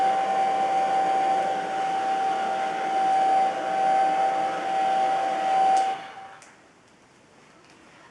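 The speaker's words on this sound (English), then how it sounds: "I'm gonna continue to diffuse my hair until it gets dry" A hair dryer fitted with a diffuser runs steadily while drying hair, a loud close whine with a constant tone that shifts slightly as it moves, then cuts off near the end.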